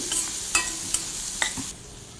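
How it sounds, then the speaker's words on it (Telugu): Onions fry in a pan for tandoori vegetable biryani, a steady close hiss with a few sharp clicks of stirring before the sizzle drops away near the end. "ఆనియన్స్ వేసుకుంటున్నాను నేను ఆనియన్స్ కూడా కొద్దిగా వేయించుకోవాలి"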